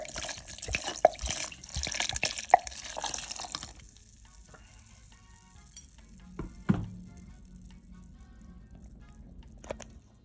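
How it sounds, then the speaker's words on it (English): A whole bottle of Sauvignon Blanc is poured into a pitcher for winter sangria: a close, steady splashing pour for several seconds, then quieter drips and a light clink near the end. "So I pour in an entire bottle."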